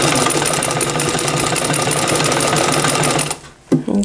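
Domestic sewing machine stitching garment fabric while it is eased by finger behind the presser foot, a fast continuous whirring buzz that stops abruptly near the end, followed by a brief clunk.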